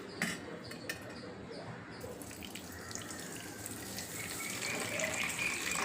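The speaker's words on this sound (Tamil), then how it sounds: "ஸோ அதை வந்து தண்ணி ஊற்றி கொஞ்சம் நேரம் ஊற வைங்க" Water pours steadily from a tap over sabja basil seeds set to soak for a ginger lemon juice, a continuous gushing splash that grows slightly louder toward the end.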